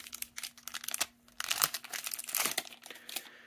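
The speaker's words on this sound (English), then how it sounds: "let's open up these boosters then" Doctor Who Magic: The Gathering collector booster packs being torn open: close crinkling foil wrappers, rustling and tearing in irregular bursts, no speech.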